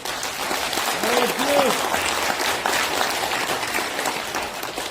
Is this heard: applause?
yes